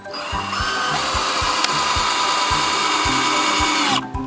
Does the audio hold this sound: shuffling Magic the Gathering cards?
no